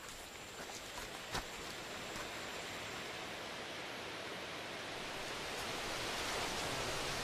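A waterfall roars in a steady, continuous rush of white water, unbroken and fairly even, with no voices.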